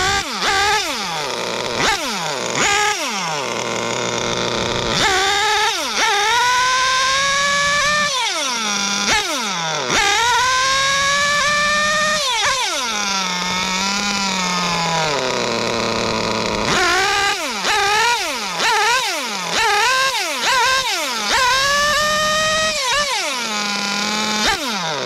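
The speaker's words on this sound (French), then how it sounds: "on entend bien le déclenchement de la boîte en statique" Warm engine idling on a car while stationary as its BMT 016 GT gearbox is triggered to shift, producing repeated sweeping whines and revving tones that rise and fall in cycles over about 25 seconds, close and continuous.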